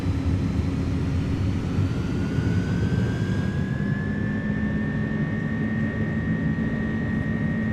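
iniBuilds A300 airliner engines spooling at takeoff power in Microsoft Flight Simulator 2024, a loud, steady jet roar with a rising whine that holds throughout, no voices.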